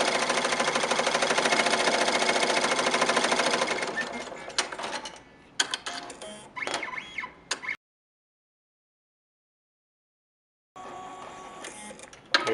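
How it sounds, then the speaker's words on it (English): A HAPPY embroidery machine stitching a two-layer applique, buzzing in a dense rapid chatter that slows into short bursts, stops for a few seconds of silence, then resumes, loud and close with no talk. "the machine now sews the marking stitch, which is in red, for the second shape"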